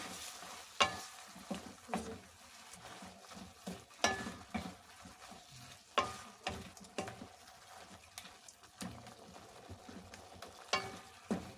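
Cheesy spicy shrimp is stirred in a pan while it sizzles softly, with a spoon scraping in a regular rhythm of clinks and swishes over a constant low frying hiss.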